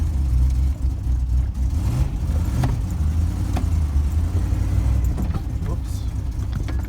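A 1988 Land Rover Defender 127/130 running with the choke on while driving, a steady low engine drone heard from inside, with some faint rattles and a person talking over it.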